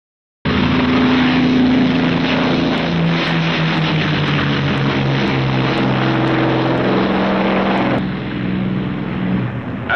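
P-51 Mustang fighter planes warm up their propeller engines in a loud, steady roar that starts abruptly and holds throughout, with rhythmic engine pulsing and no talking.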